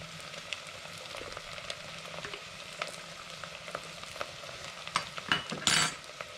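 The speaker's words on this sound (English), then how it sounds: "So as you can hear, it's starting to sizzle up." Minced garlic sizzling in a pan on a gas stove, a steady soft crackling hiss with scattered pops, joined near the end by a brief louder scrape of stirring.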